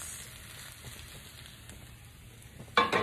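Meat for a steak roulade sautéing in a pan, a faint continuous sizzle that swells into a sudden louder hiss near the end.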